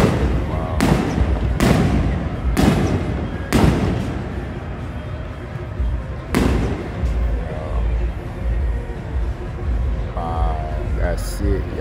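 Fireworks bursting outdoors during a celebration, five loud sharp booms in uneven succession, then one more after a pause, with people talking and laughing between the blasts.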